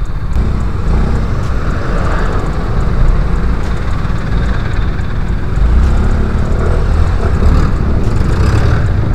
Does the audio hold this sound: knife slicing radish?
no